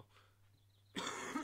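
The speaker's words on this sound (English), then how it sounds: "for some reason I'm just coughing very fucking much" A person gives a single short, harsh cough that starts abruptly after a quiet moment and is loud and close.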